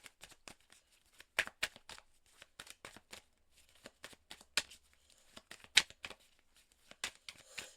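Oracle cards from the Béline deck being shuffled and drawn, heard as a string of crisp, close papery flicks and riffles in irregular bursts, some sharper than others, with no talking.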